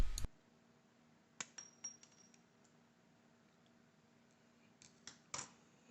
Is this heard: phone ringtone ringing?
no